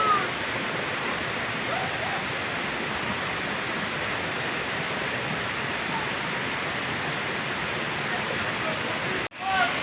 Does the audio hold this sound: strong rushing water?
yes